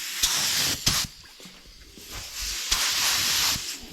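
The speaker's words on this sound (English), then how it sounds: "And spraying under there" Spray paint hisses in repeated bursts from a spray gun onto a lace-covered surface during custom painting, close and loud, with short pauses between passes.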